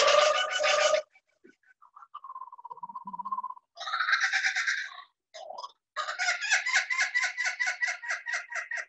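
Human voices imitate a flock of laughing kookaburras calling from a gum tree, building from scattered hoots and whoops into a rapid, rhythmic cackling chorus at the end.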